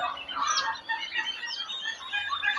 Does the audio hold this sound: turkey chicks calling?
yes